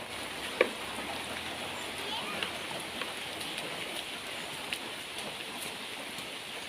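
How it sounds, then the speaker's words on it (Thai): Light rain falling steadily over rice paddy fields, a soft continuous hiss with faint scattered drops, while people talk nearby. "ฝนตกไปปอยอยู่เด้อ"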